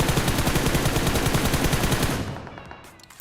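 Rapid automatic gunfire in the mobile shooter BGMI/PUBG, a loud, tight burst of rhythmic shots lasting about two seconds before trailing off into a fading echo.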